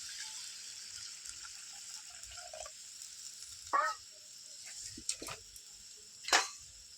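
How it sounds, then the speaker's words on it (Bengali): Water is poured into a pot of Bengali tilapia fish curry with mustard paste: a faint steady sizzle-hiss, broken by a few short splashing gushes near the end. "আর একটু জল দেবো পরিমাণ মতো।"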